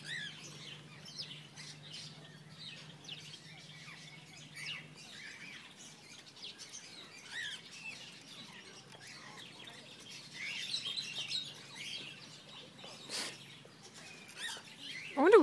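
Lorikeets in the Palmerston North Esplanade aviary, a busy mix of faint chirps and intermittent squawks, with a louder squawk near the end.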